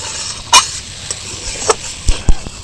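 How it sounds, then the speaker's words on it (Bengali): Potatoes and ridge gourd are stirred and fried in a pan: a low sizzle runs throughout, with several distinct scrapes and knocks of the spatula, close and fairly loud. "তো এবার সব কিছু একসাথে নাড়াচাড়া করে একটু কষিয়ে নেব।"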